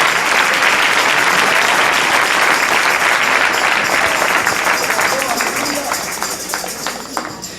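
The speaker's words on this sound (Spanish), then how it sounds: "Dele un aplauso al Señor en esta hermosa y preciosa noche" A church congregation applauds during an evening service, producing a dense, loud, sustained wash of clapping that gradually thins and fades toward the end.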